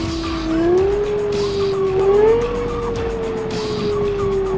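A car drives in the video game Cyberpunk 2077 with a steady engine drone, and its tires squeal and skid in long, wavering tones. It is loud and close, with no talking.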